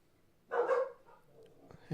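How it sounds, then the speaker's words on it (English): A single short dog bark sounds faintly and at some distance, then quiet follows. "y'all can hear dogs barking too."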